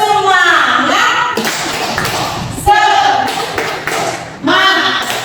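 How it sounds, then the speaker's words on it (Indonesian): A group playing the tepuk semangat rhythmic clapping game, short bursts of claps alternating with chanted voices, close and lively. "Yuk kita main tepuk dulu sebelum kita lanjut ke kasus selanjutnya."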